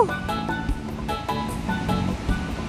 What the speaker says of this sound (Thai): ฟังเสียงลม คลื่นทะเลแล้ว